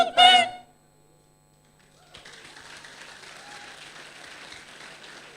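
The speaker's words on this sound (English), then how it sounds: "A round of applause for Symphonia Orchestra, please." Audience applause for an orchestra at a celebration event, rising after a brief loud vocal burst and a pause, then continuing as moderate, steady clapping from a sizable crowd.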